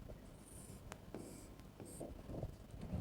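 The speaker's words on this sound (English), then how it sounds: "So, I am writing the capital A." Marker or chalk writing on a board during a lecture on LR parsing, faint scratchy strokes and taps in short bursts, quiet and close, with no one speaking.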